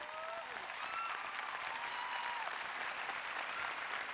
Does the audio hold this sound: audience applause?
yes